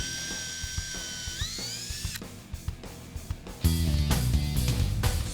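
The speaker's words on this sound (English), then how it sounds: "we're going to drill a tiny little pilot hole along our chalk line" A power drill bores a small pilot hole along a chalk line on a deck board, with short bursts of whirring and ratcheting, a rising motor whine early, then a louder grinding run toward the end.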